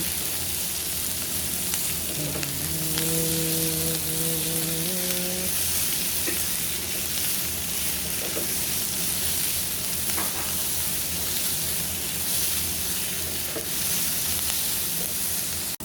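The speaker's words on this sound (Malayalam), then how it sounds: "നമുക്കിതാ സബോള വാരിയിടാട്ടോ. ഒരു 2 സബോളയാണ് ഇട്ടിരിക്കുന്നത്. ഇതൊന്ന് നന്നായിട്ട് വാട്ടാട്ടോ." Two sliced onions fry in a pan for an egg curry, giving a steady close hiss and sizzle throughout, with a few stirring scrapes and a brief tonal beep early on, and no talking.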